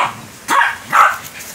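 A small dog and a big dog fighting, with two sharp barks or yelps about half a second apart, fairly loud and close over a low, rumbling background.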